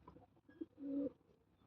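A pigeon kept at a home loft gives a low, soft coo, with a short call near the start and a longer sustained coo in the middle, fairly close and quiet.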